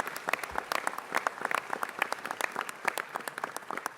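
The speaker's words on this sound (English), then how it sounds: "Let's give him a big round of applause." Applause from an audience at a city council meeting during a Nowruz celebration, steady dense clapping from many hands filling the room throughout, no talk over it.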